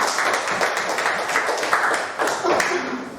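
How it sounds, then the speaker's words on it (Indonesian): A classroom group gives a round of applause for group 3, with dense, close clapping from many hands filling the moment steadily and without talk. "berikan aplaus kepada kelompok 3"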